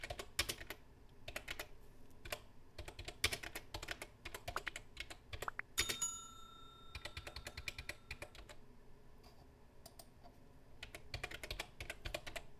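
Typing on a computer keyboard, a steady run of close, crisp key clicks with brief pauses, no voices.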